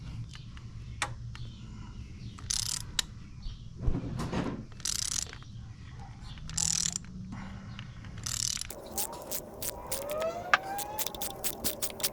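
A ratchet works spark plugs loose on a Ford ST engine, bursts of close ratcheting clicks and rasping pawl sounds, then a quicker run of fine clicks near the end.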